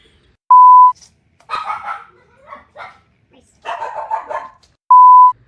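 Several dogs yip and bark in short bursts in a home, with a few quick barks bunched together twice. A sharp electronic beep sounds at the start and again at the end.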